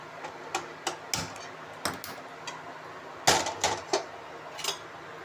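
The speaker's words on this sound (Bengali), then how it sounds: "কড়াইটা বসাই।" A kadai is set on a kitchen stove with a scattered series of close metallic clanks and knocks against a quiet background.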